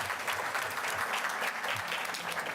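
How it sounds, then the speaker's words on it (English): An audience at a school board meeting gives a steady round of applause for two school leaders, a continuous even patter of many hands clapping throughout. "Let's give both of those school leaders another thunderous round of"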